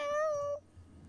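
A house cat gives one clear, drawn-out meow, fairly loud and close, then falls quiet with only faint room noise after.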